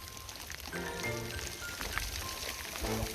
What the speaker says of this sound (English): We are experiencing hail.